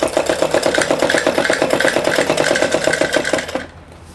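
A sewing machine stitching salwar fabric with buckram underneath: a loud, fast, even mechanical chatter of running stitches for about three and a half seconds, then it stops.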